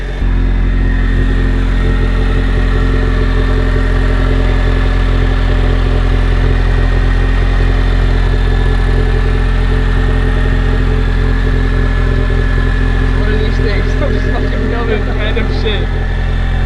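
Cadillac CTS-V with a big turbo and about 700 horsepower idles steadily, a deep continuous engine rumble close by with a few faint rattles near the end.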